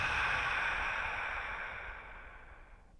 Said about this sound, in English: Take one more deep awareness breath. And on the exhale,